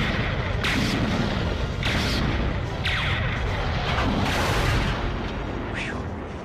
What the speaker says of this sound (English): That train blew just in time.